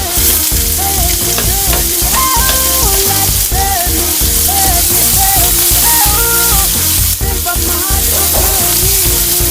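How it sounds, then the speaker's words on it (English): Corn and onion fry in oil in a pan for a pork keema noodle dish, a loud, close, continuous sizzle with a steady crackle from start to finish. "Fry for a few minutes until onion and garlic will not change the color."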